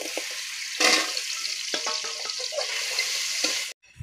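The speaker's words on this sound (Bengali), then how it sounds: "এবার আমি পরিমাণ মতো সয়াবিন তেল দিয়ে দেবো। আর আলুগুলো লাল লাল করে ভেজে নেব।" Potatoes frying in soybean oil in a hot wok, a steady close sizzle with a louder burst as they go in and brief stirring scrapes, cutting off sharply near the end.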